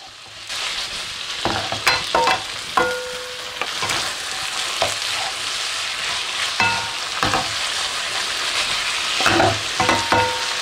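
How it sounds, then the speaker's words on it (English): Chicken ginger stir fry sizzles loudly in a hot pan as black pepper is stirred through, with a constant frying hiss broken by repeated clattering scrapes and knocks of the utensil. "Give that a stir through."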